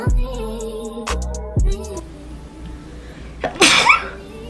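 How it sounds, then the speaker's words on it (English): A person sneezes once, loudly and up close, a sharp burst set against a background of music. "Sneeze all over my fucking self."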